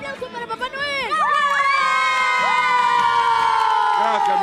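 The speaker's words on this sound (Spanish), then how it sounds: "¡Un aplauso para Papá Noel!" Children cheer and shout for Santa Claus at a Christmas gathering, a loud, continuous crowd of high voices whooping together that swells after the first second and carries on to the end.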